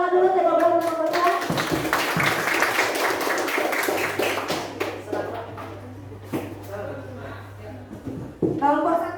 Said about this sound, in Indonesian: kita beri tepuk tangan dulu kelompok 1 dan kelompok 2.